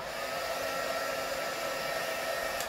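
Heat gun blowing hot air onto 3D carbon fiber tech art vinyl wrap on a Scion steering wheel, a steady loud whooshing blower drone throughout, with no talking.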